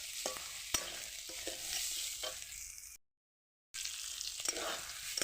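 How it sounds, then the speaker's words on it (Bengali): Turmeric, chili and black pepper powders frying in a pan as they are stirred, a close steady sizzle with a few sharp spatula taps, broken by a short silent gap. "পরিমাণ মতন হলুদের গুঁড়ো, লঙ্কার গুঁড়ো, গোলমরিচের গুঁড়ো আর একটু ভেজে নেব।"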